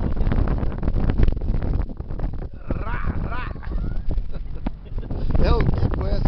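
Strong cold wind buffeting the microphone on the Piquiri River during a fishing trip, a constant rough roar with voices talking underneath.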